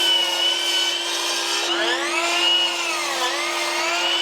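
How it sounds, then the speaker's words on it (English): A saw cuts through a wood board while building a custom access panel, giving a loud, steady, whining drone whose pitch bends and shifts throughout, with no talking. "Make my first cut with this board and then use this board as a scribe."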